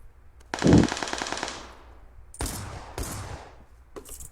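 Rapid bursts of video game gunfire, a loud automatic volley followed by a few sharper separate shots, with no talking.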